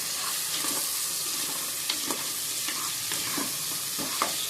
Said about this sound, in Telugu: అలాగే అల్లం వెల్లుల్లి పేస్ట్, ఇవి వేసి కలిపేసుకోవాలండి.